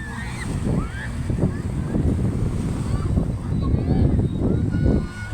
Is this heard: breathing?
no